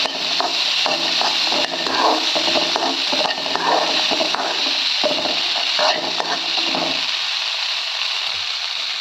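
Onions sautéing in a pan for black chickpea sundal, steady close sizzling and frying with repeated scraping stirs and clinks of a utensil against the pan, fading slightly near the end.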